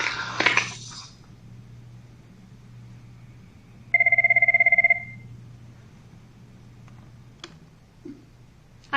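A Cisco desk phone rings with one clear electronic burst of about a second over a quiet room hum, followed by faint clicks and taps.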